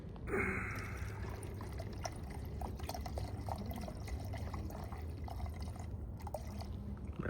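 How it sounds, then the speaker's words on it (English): Urethane reducer poured into a mixing cup while candy paint is mixed for 1984 C10 parts, a steady liquid trickle running the whole time at moderate level, with no talking. "we're gonna grab our urethane reducer, and then we'll pour it to the 3"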